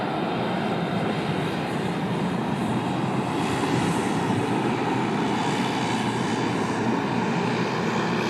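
Jetstar airliner rolling past on the taxiway at Sydney Airport, heading off to Brisbane; a steady loud engine hiss and roar sustained close by without a break.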